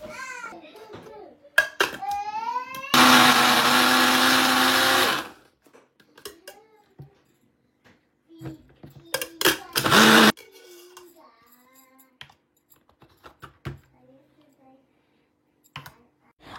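A kitchen blender grinds cooked onion and garlic with ginger in two loud whirring bursts, one of about two seconds and a shorter one later, amid scattered clicks, clatter and bits of nearby talk.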